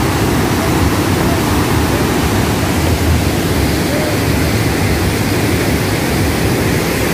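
Cachoeira do Urubu waterfall, swollen by heavy rain, pours with a steady, loud, unbroken roar of rushing water that fills the whole stretch with no voices.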